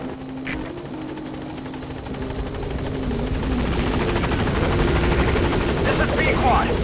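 Support helicopter in Metal Gear Solid V: The Phantom Pain arriving at the landing zone, a steady rotor drone and whine swelling louder and nearer as it approaches, with a voice speaking over it.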